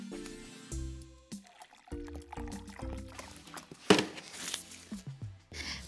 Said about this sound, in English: fill a big jar or vase or tank about 2/3 full of water.